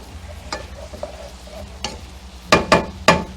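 Chopped onions sweat in a pan for cream of broccoli soup, a soft steady sizzle broken by several sharp stirring scrapes and clanks toward the end.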